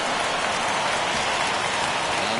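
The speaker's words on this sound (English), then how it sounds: "it's pouring out there right now" Heavy rain pours down steadily at a baseball stadium during a Diamondbacks at Padres game, a dense unbroken hiss of falling water with no talk.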